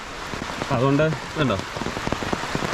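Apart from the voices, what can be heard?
rain falling near waterfall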